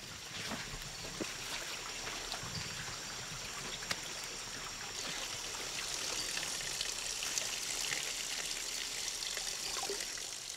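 Water trickling and flowing at a desert stream while a flask is filled, a soft, steady babbling close by with light splashes, continuous with no talk.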